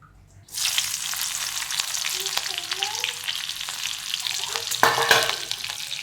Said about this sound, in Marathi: तूप टाकले आता मिरच्या चिरले